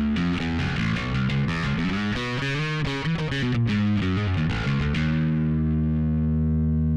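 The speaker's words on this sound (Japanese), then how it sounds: "ちょっとジャッキジャキのこう歪みの音を作ったとします" An electric guitar plays through a crunchy distortion effect: a quick, choppy riff of driven chords, then one sustained chord ringing out and slowly fading.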